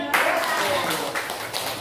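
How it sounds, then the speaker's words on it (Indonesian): Pupils and teachers clapping hands together in a classroom, a brief burst of dense clapping that trails off, with voices over it. "Tepuk tangan"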